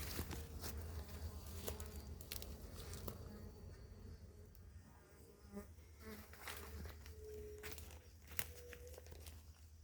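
Stingless bees buzzing around the entrance of their nest, a continuous close droning hum with passing individual flights and occasional soft rustles.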